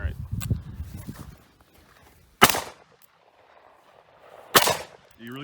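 A Taurus Model 66 .357 Magnum revolver fires two loud, sharp shots at a range, a couple of seconds apart, with quieter shuffling and movement noise between them and faint voices at the start and end.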